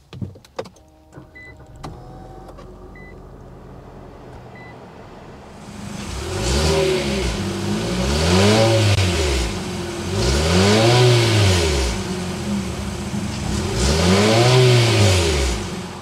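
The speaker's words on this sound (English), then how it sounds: "start up so you can hear that exhaust note." Infiniti QX55 with VC turbocharged engine: a few faint clicks and chimes inside the cabin, then the engine starts and revs three times in rising and falling swells, the exhaust note loud and close.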